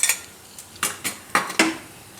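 A frying pan handled on a gas stove while a little ghee goes in for ladoos made from puffed grain and jaggery: several sharp metallic clinks and knocks, spaced irregularly, close and fairly clear, with no talk.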